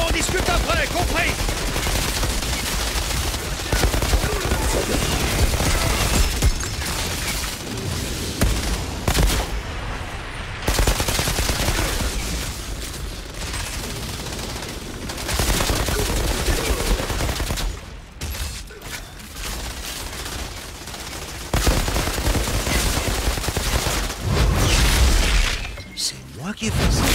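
Sustained gunfire in the sci-fi shooter Outriders, with dense automatic bursts and heavy booms running nearly without pause, under intermittent spoken dialogue.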